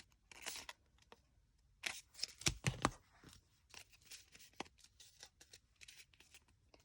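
Scissors cut up the center of a stack of paper flower petals, quiet close snips and paper rustles in short bursts with pauses between.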